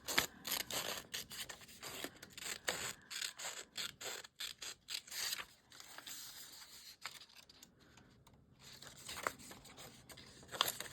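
Scissors snipping through a sheet of paper or card while trimming a piece for a junk journal, a run of close, crisp cuts and rustling that pause briefly and then resume.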